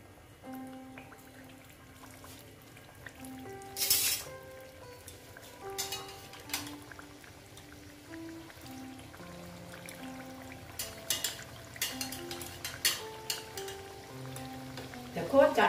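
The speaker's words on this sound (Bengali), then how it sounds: "দেখো চারটে চারটে আমি ভেজে নেব" Potato and flour snacks frying in hot oil, a quiet continuous sizzle and bubbling close by, with occasional sharper crackles and clinks as pieces are added, while a melody plays in the background.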